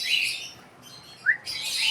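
Pet cockatiels chirp in rapid, close, fairly loud bursts, with a brief lull in the middle of the stretch and a sharp single call rising out of it, and no voices.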